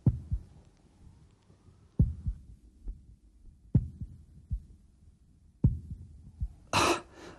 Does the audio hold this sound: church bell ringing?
no